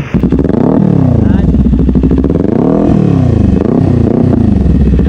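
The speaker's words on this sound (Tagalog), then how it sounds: "meron tayo dito ng Kawasaki Ninja 400. So nag-upgrade siya ng muffler. Ang kinabit natin ay Akrapovic R11" A Kawasaki Ninja 400 motorcycle fitted with an Akrapovic R11 muffler revs loudly and close, its exhaust note rising and falling through several throttle blips with no break.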